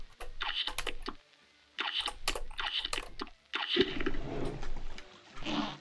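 Close-up clatter of a computer keyboard during a Cuphead session: quick bursts of key presses, a short pause, then more rapid typing blending into game sounds toward the end.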